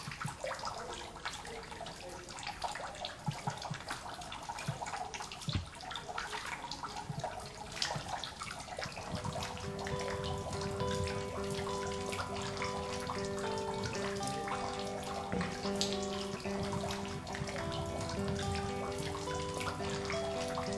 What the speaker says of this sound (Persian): صدای چکیدن قطرات آب در دهنه این غار به وضوح شنیده می شود